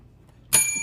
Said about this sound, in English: Kevin Vick Memorial Bell.